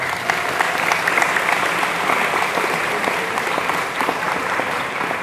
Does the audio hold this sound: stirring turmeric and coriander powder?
no